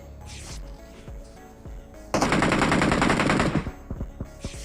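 Rapid automatic gunfire in PUBG Mobile, a few scattered shots followed by a loud, sustained burst of close machine-gun fire with echoing reports, no talk over it.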